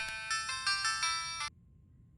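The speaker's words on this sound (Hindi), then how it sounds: "लगता है अभी आपका फोन है।" A mobile phone ringtone plays a bright, repeating electronic melody in several pulsed bursts for about a second and a half, then cuts off abruptly into quiet.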